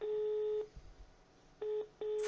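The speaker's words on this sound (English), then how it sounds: "phone going off" A phone goes off in a visual novel: electronic tonal beeps sound in three separate bursts, the first long and the last two shorter, with quiet gaps between and no voices.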